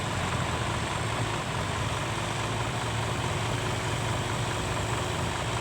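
A tractor engine labours steadily on wet, sticky clay ground, a constant low, rumbling drone at moderate level with no pauses and no voices.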